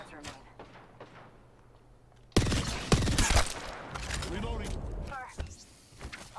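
In an Apex Legends match, a sudden loud grenade blast breaks in, followed by rapid bursts of gunfire and scattered impacts, with a player's voice talking over the action.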